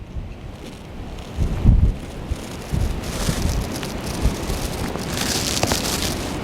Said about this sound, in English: It's quite windy, much windier than I thought it would be